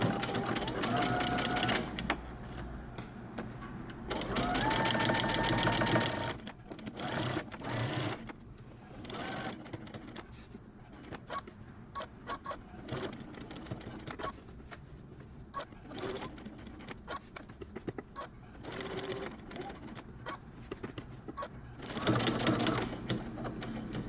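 Sewing machine stitching across the line of a men's button-up shirt placket, running in several fast rattling bursts, the longest early on, with a person talking between and over the stitching.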